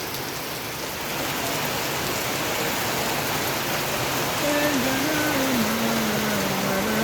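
Steady, heavy rain pours down in a continuous hiss, with a faint wavering tone rising in the background toward the end.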